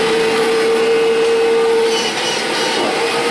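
A trash-picked Kirby Generation 5 vacuum cleaner runs up close with a loud, steady motor whine and airy roar, its tone dipping slightly partway through as it settles.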